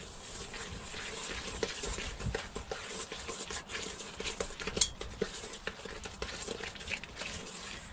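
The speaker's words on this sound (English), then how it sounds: "So you add it in and you just stir it till it goes soft." Christmas cake mixture with brown sugar being stirred by hand in a bowl inside a motorhome, a steady scraping patter with scattered light knocks of spoon against bowl, close and continuous, with some faint speech.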